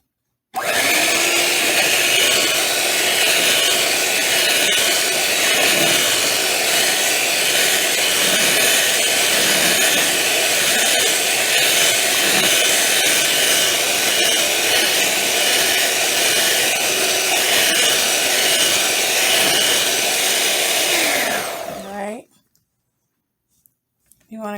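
Electric hand mixer running steadily on medium-high, beating eggs into sweet potato pie filling in a bowl; a loud, continuous whir holds for about twenty-two seconds and then cuts off.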